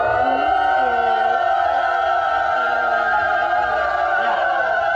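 A group of people imitates a siren with their voices, several wavering tones rising and falling together in a long, continuous wail that sounds close and loud.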